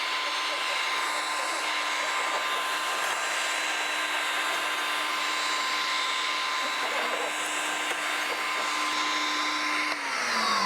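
A floor machine flood rinses a marble floor, its steady motor whine running loud and unbroken with a constant hum, with wet surface noise throughout.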